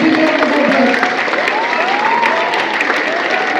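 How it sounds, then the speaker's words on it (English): An audience at a school parliament investiture ceremony claps for the newly sworn-in members, a loud, continuous burst of applause with a few cheers and a voice speaking over it. "Give them a big round of applause."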